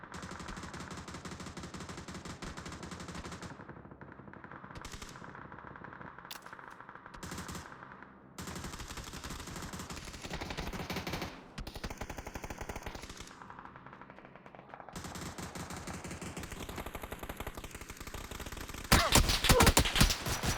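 Scorpion machine pistol fire in PUBG, a long stretch of rapid, loud gunshots in dense bursts with a few brief gaps, ending in an even harsher burst of shots near the end; no voices.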